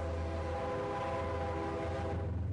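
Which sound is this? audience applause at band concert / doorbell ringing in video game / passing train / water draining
passing train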